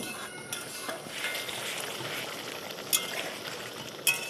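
Parshe fish stirred in spice paste in a pan for a Bengali fish curry, giving a steady low sizzle with soft scraping and a couple of sharp utensil clinks against the pan.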